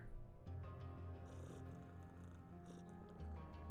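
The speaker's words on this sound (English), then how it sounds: "I hear a kitty cat." A cat purrs in a steady low rumble during a stream of the game Underrail, sitting under continuous game music and ambient tones, fairly faint throughout.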